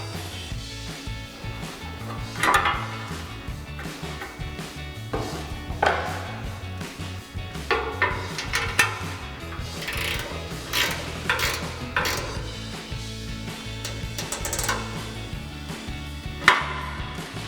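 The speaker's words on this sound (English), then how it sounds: "we're going to take our 13 mil ratchet wrench" A 13 mm ratchet wrench tightens a nut on a Barricade Extreme HD front bumper of a 2020-2023 Silverado 2500, giving irregular mechanical clicks and clunks over a steady low background hum, with a few sharper knocks.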